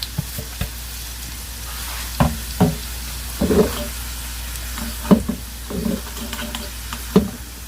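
Steady frying hiss of cumin seeds in hot oil for a tadka runs throughout, broken by several sharp clatters and stirring knocks in the pan, with no talking.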